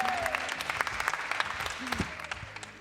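A gala audience at the Chicago Waldorf School claps for Nick, irregular close-up hand claps with faint overlapping voices in the room.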